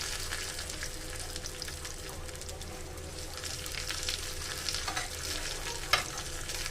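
Garlic sizzles and fries steadily in a pan for tomato rasam, with occasional stirring scrapes over a continuous crackle and no voices.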